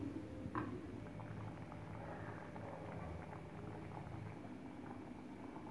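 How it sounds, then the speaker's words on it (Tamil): Drumstick pachai curry bubbling in a pot over a low flame, a soft continuous gurgle with small popping bubbles, close and quiet, one brief louder splutter early on, no talking. "இது ஒரு 3 நிமிஷம் அப்படியே கொதிச்சா போதும்"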